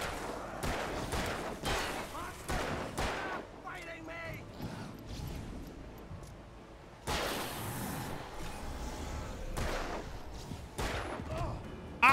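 Gunshots in the game Alan Wake, sharp irregular cracks spaced a second or so apart with a few clustered volleys, fairly quiet and mixed with people talking over them.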